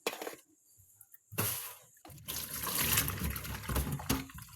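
Tap water running into buckets at an outdoor filling spot, a splashing, gurgling flow that starts in short bursts and then runs steadily and close, with a few clunks.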